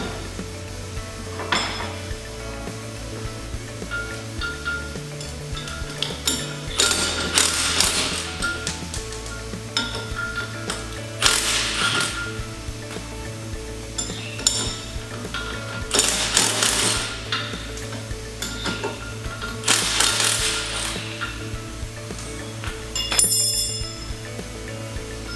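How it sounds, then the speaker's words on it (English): Bolts being removed from an EZG Fence Hog tilt plate attachment: repeated metallic clinks, clanks and tool ratcheting in bursts, close by, over a steady low mechanical hum, with no talking. "So I need to remove these bolts."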